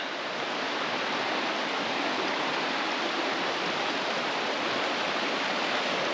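Steady rushing water of a remote wilderness river flows continuously, a broad, even hiss heard close with no pauses.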